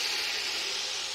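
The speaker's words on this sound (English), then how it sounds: "You hear the crackling? That means that the water is sort of dissipating." Fresh tomato sauce cooks down in a pan toward caramelization, giving a steady close sizzling hiss with fine crackle throughout and no voices.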